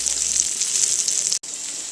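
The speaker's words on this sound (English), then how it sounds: "I hear sizzling" Sausage sizzling in a frying pan gives a steady, close hiss of frying fat that runs unbroken, with one brief cut near the end.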